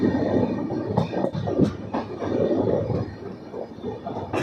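Danapur Koderma Intercity Express runs steadily on the rails, a continuous rumble with rhythmic clickety-clack wheel beats, heard from inside the coach, close and sustained with no talking.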